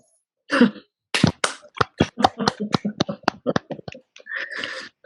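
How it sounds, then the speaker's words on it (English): A handful of listeners on an online talk clap for the speaker, giving sparse, uneven claps with gaps between them, mixed with a cough and a few scattered taps. "just give her a wee round of applause"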